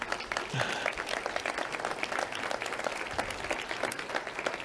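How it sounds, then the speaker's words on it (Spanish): Audience applause for a speaker at a Reputation Day corporate event, a dense, steady wash of many hands clapping close and loud throughout, with a few faint voices mixed in. "No me aplaudan."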